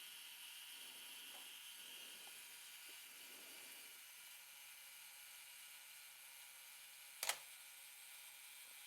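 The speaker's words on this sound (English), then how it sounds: "All right, and the shutter fires." A Minolta SRT 201 film SLR camera on its self-timer, a faint mechanical whir and ticking running under a quiet hiss, then a single sharp shutter snap near the end.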